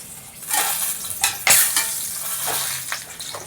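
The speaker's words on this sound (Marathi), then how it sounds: "हिरव्या मिरच्या टाकल्या आहेत 2. चांगला कलसून घेते." Whole spices and two green chillies sizzle in hot oil in a pan for chicken dum biryani, with a steady close frying hiss broken by a few stirring scrapes and spoon clinks.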